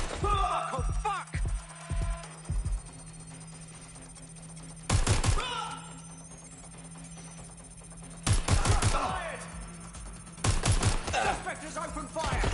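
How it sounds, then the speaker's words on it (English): Gunfire in Watch Dogs Legion comes in several loud, sharp bursts of rapid shots separated by quieter gaps, with a few single thuds near the start and a voice speaking between volleys. "Suspect has opened fire!"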